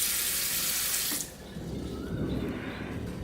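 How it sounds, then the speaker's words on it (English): Water from a kitchen tap gushes loudly into a pan, a steady splashing rush that drops and deepens after about a second as the pan fills during noodle cooking. "Okay, some water in the pan."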